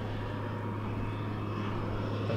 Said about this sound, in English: I saw this little aeroplane now for a couple of times coming across here.